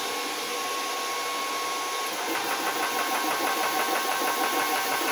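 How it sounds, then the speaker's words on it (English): A Nomad air compressor pump starts up and runs with a steady, dense mechanical hum, and a rapid pulsing chug joins in partway through and keeps going. "when you press the second button, it actually turns the compressor, the pump on"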